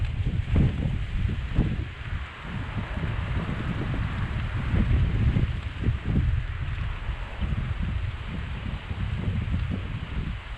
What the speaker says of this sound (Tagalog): Grabe hangin mga kapatid.